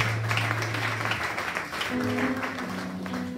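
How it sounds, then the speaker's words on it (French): Applause from a church congregation after a testimony, with steady clapping spread across the clip over a low sustained musical tone, loud and continuous with a brief dip midway. "Acclamez encore très fort pour son témoignage."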